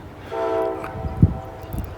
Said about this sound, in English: we've got an empty coal train coming here